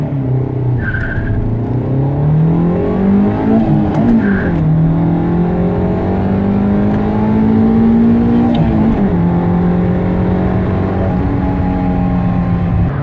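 A 1990 Honda CRX 1.6 16v pulls hard in third gear from about 100 km/h near 5000 rpm, its engine note climbing steadily in pitch, loud and close with no talk over it.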